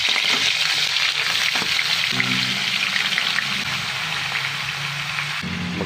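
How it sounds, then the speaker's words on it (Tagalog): Bone-in pork sears in a pan of hot oil, a loud steady sizzle running throughout with a few brief scrapes and knocks of the pan, and no talking. "Maglagay tayo ng kunting mantika sa kawali. I-sear natin ang pork with buto-buto."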